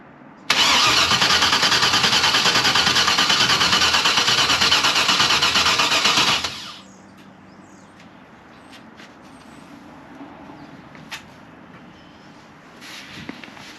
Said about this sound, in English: When we crank on it, we'll actually be able to fill the fuel filter.